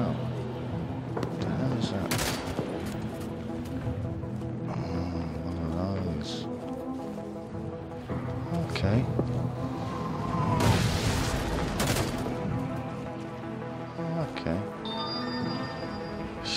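Gunfire in the Halo 5 video game crackles and booms in repeated bursts over a busy game soundtrack, with a player talking over the action.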